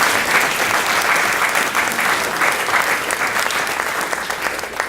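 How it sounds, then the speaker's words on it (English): Audience applause at a 2018 Academy of Finance graduation ceremony: loud, dense clapping from a large crowd sustained throughout, gradually easing slightly toward the end. "So just give a round of applause for the Academy of Finance."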